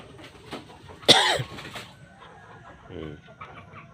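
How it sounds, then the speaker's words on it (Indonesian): A chicken gives a sharp, loud squawk followed by a few softer clucks, with quieter clucking later against light background noise. "Ini ternak saya, ayam."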